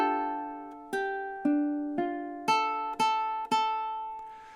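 Ukulele plucking single notes from bar 31 of a song, six clear, evenly spaced picked tones that each ring and decay, played alone and close up.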